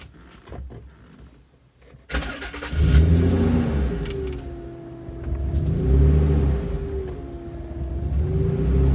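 A Nissan 300ZX Twin Turbo cranks and catches after a quiet pause, then idles roughly and revs several times in rising and falling swells, close and loud.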